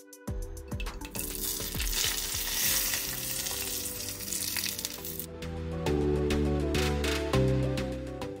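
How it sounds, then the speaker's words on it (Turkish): Hot topping is poured over a homemade İskender kebab with roasted peppers. It sizzles loudly and steadily, with crackling pops and spitting throughout and no talking. "Közlenmiş biberi üzerine ekledikten sonra evet işte Joss sesine hazır mısınız?"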